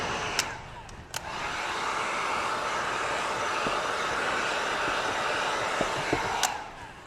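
A heat gun blows a steady, rushing hiss while warming window tint film on a curved frameless car door of a 1992 Dodge, with a few sharp clicks and taps at the start and end and no talking.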